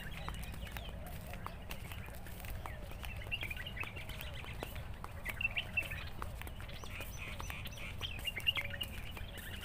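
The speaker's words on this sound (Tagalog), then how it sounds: "Maririnig mo na lang dito yung mga huni ng ibon." Scattered bird chirps and calls over a low outdoor rumble in Oud Al Muteena Park, Dubai, during a morning walk, with faint footsteps and distant ambient noise throughout.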